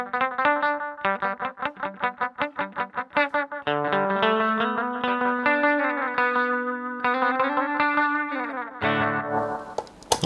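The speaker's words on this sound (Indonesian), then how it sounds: "Analog delay." Electric guitar run through an analog delay pedal, first as a rhythmic train of plucked notes, then sustained chords and single lines, each trailed by soft repeating echoes, loud and close with no talking.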